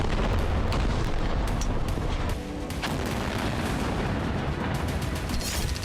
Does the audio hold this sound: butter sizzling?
no